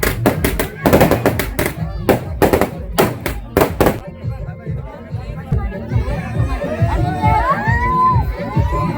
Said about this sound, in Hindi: यहाँ पे पटाखे भी फोड़े जा रहे थे